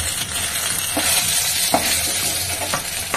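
Rohu fish pieces fry in a hot kadai and are stirred now and then. A steady sizzle runs throughout, with a few sharp scraping stirs close by and no voices.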